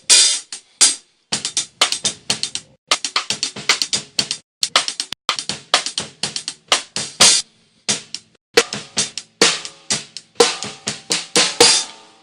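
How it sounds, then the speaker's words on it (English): Acoustic drum kit with hi-hats heard flat through a Yamaha EAD-10 with no effects, a steady groove of crisp hi-hat and cymbal hits with kick and snare strokes, close and fairly loud, with brief pauses between phrases. "we're going to listen to the kit through the EAD,"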